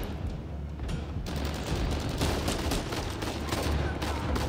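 Rapid gunfire from a firearm in the video game Uncharted 4: A Thief's End, a dense, continuous burst of shots that starts suddenly about a second in and keeps up loudly throughout.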